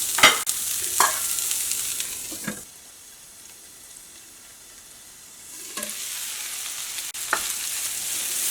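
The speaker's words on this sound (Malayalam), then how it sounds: "ഇത് രണ്ടും കൂടിയിട്ട് നന്നായിട്ട് മിക്സ് ചെയ്തിട്ട് ഇത് നമുക്ക് ഒരു 2 മിനിറ്റ് നമുക്കൊന്ന് മൂടി വയ്ക്കാം." Broccoli being stirred in a cooking pan, with a few scraping stirs and sizzling at the start, a quiet pause while the pan is covered, then more stirring toward the end; no one talks.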